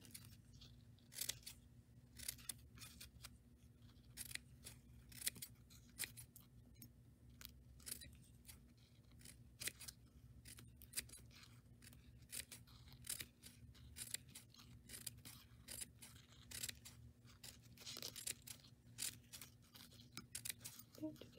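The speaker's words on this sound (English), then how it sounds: "it's time to cut. You're just going to cut right before you get to the other side." Scissors cut through paper to make paper flowers, a long run of close, quiet, rapid snips and crunches over a faint steady hum, with no one speaking.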